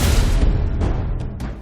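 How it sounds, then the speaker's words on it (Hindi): A gunshot goes off inside a petrol pump office during an armed robbery. It is a loud, close boom with a heavy low-end thud that decays quickly, followed by a couple of fainter bursts, and no speech. "तभी अंदर से गोली चलती है,"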